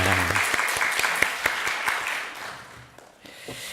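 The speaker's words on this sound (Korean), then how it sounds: "우리 하나님께 다 같이 영광 박수 올려드리도록 하겠습니다" A church congregation at a Sunday morning service applauds together, a dense, lively wash of clapping that thins out and fades toward the end.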